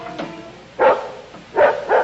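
A neighbour's dog barks outside a house, three separate mid-distance barks spaced by short pauses, with a faint background hiss between them.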